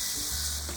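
A brief, steady sizzle of food frying in a pan as pepper and soy sauce are stirred in for Thai long life noodles, close and continuous with no voices.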